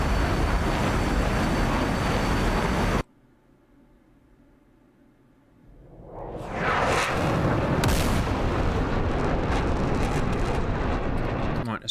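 Missiles launching in a naval wargame video game: a loud, dense rumble that cuts off abruptly, then after a short lull a rising roar builds back up and holds at full strength.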